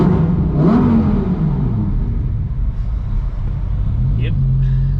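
A Performante sports car engine revs loudly in neutral inside an underpass, its rising and falling roar echoing close by while a voice talks over it.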